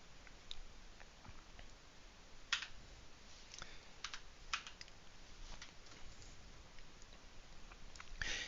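Fingers type on a computer keyboard in quick, irregular bursts of soft clicks, with a few sharper keystrokes standing out. The sound is close and quiet, with no talking.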